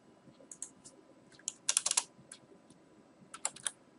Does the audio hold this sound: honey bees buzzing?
no